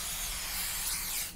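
Brief, loud, continuous spray hiss from an aerosol can in the horror game The Convenience Store, a single close burst lasting just over a second.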